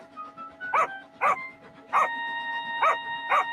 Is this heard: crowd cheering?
no